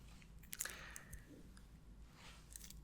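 Chewing of a crispy Milka chocolate wafer, soft close-mic crunches and wet squishes in quiet, intimate bites with no voice.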